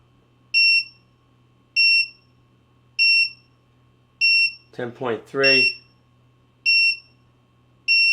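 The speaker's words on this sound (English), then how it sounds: "Low voltage alarm." Sharp electronic beeps from a Leaptrend 3000W pure sine wave power inverter's low voltage alarm repeat at a steady pace, about one per second, over a low hum, with someone briefly speaking between them.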